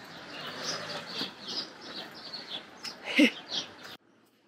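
Birds chirp outdoors in short scattered calls over steady background noise, with one louder burst of calls near the end before the sound cuts off.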